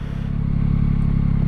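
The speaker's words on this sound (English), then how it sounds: "I have to put the kickstand up and pull the clutch in to start the bike." A 2021 Yamaha MT-09 motorcycle engine runs close by as a loud, steady, low-pitched throb with a fast, even pulse that holds without a break.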